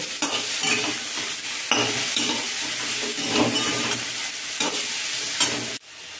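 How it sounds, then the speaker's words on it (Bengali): Ginger and tomato frying in a pan for a vegetarian vegetable dish, stirred steadily with a spoon. The sizzle is continuous and close, with scraping strokes throughout and a sharp cut near the end. "দিয়ে রেখে আদাটা একটু এর সাথে ভালো করে ভেজে নেব।"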